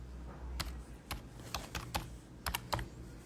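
Keys tapped on a computer keyboard while entering a terminal command, with about a dozen quiet, close clicks in short uneven bursts.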